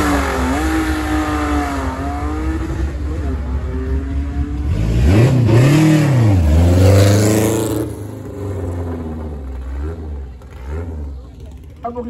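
A rally car's engine revs and accelerates hard at the start of a rally stage, rising to a loud, close roar around the middle, then easing off as it pulls away, with a commentator's voice running throughout.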